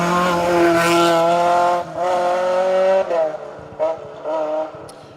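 A Toyota rally car on the R.A.C Rally stage blasts past at speed, its engine a loud, rising-then-falling roar with gear changes and revving, near and alone before fading slightly as it passes.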